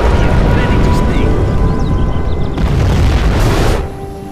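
A loud, continuous roaring boom of a nuclear missile launch in a strategy video game, rumbling heavily for several seconds before tapering off, with game voices faintly layered over the din.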